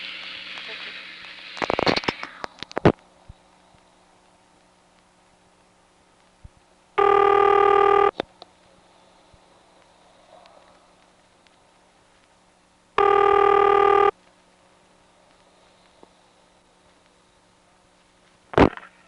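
Two loud, identical bursts of ringing on a 1977 step-by-step telephone exchange line, each lasting about a second and spaced several seconds apart, with clicks and crackle from the switching equipment early on and a low line hum throughout.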